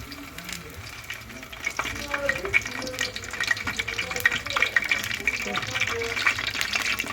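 Eggplant slices sizzle and crackle steadily in hot oil with soft splattering pops, close by, while someone talks over it.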